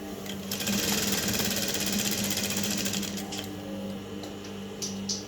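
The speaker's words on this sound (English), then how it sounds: "So she keeps sewing it all down." A sewing machine stitches aso oke head tie fabric, its needle running in a fast, steady, close rattle that eases slightly toward the end, with a few faint clicks and no talk.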